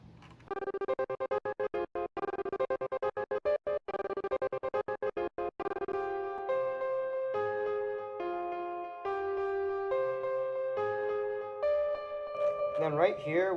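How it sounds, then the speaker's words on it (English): A piano in a beat run through reverb, overdrive, a Gross Beat effect and a limiter, its notes chopped into rapid stuttering gates before settling into smoother sustained phrases, moderately quiet, with no talking. "And that sounds like this with the gross beat."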